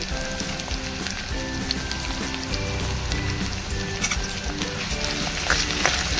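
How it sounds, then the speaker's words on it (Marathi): Onion frying in hot oil in a pan after sesame seeds and coriander seeds were toasted, a dense, steady crackling sizzle that stays loud and close throughout, with no voices. "तेल तापले, आपण आता त्याच्यामध्ये कांदा टाकूया।"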